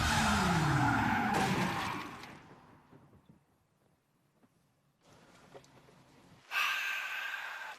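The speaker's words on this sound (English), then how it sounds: "But Lance hits the foot brake and pulls the handbrake before he makes his second turn." A car skids in a handbrake J-turn on wet pavement. Loud tire noise and spray rise and fade over the first few seconds, then after a quiet gap there is more car noise and a final loud burst.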